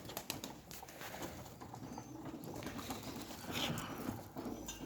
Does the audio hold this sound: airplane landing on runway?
no